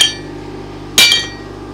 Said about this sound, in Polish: To jeszcze poprawka, uderzyć. Może większym młotkiem.